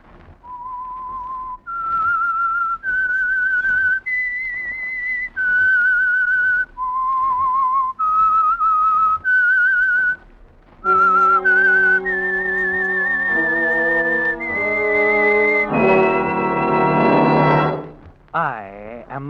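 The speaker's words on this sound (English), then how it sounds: "That whistle is your signal for the Signal Oil program" A lone human whistler performs the eerie theme of The Whistler radio drama, a slow sequence of clear sustained notes, then an orchestral passage takes over with rich held chords and a rising swell before the end.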